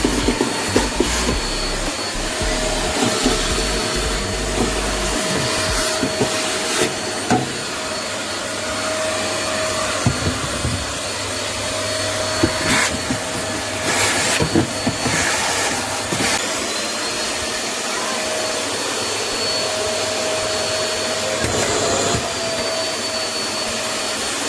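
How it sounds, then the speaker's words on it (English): A Eureka Forbes vacuum cleaner runs continuously with a steady broad whooshing roar and a faint thin whine, joined by occasional clicks and knocks as it picks up dust. "I can easily clean the dust particles into the fluid with this vacuum cleaner"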